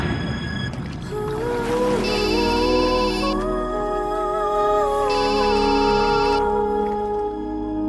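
A mobile phone ringtone plays in a Telugu romantic film scene: a bright, repeating electronic tone pattern rings in two bursts over a steady musical score, with no one speaking.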